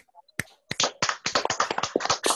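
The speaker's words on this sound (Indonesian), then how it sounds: "Tepuk tangan." A class of pupils claps hands during an Indonesian school lesson, ragged bursts of quick, close claps that start after a moment of near silence and run on densely to the end.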